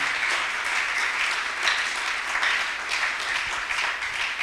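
A church congregation applauds in a steady, dense wash of clapping that holds at full strength for the whole stretch, with no voices rising above it.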